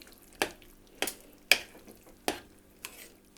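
A spoon scrapes around a pot of couscous in five separate strokes at a slow, uneven rhythm, close and fairly quiet.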